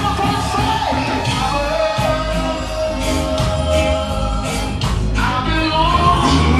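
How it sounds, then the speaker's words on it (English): Audience yelling and whooping at a live concert, loud and continuous over amplified music, with shouts rising in bursts throughout. "Everybody, somebody scream on the first side."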